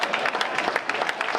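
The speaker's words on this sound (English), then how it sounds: "A round of applause for the conclusion." Brief scattered clapping from an audience at a public lecture, a modest patter of hands rising and fading within a second or so, fairly distant and light.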